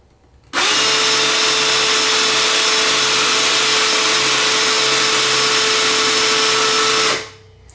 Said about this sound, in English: so I'm just going to let it basically pull it onto the drill